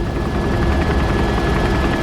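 A Super Puma helicopter in flight gives a steady, loud rotor and engine roar with a dense, even drone and no pauses.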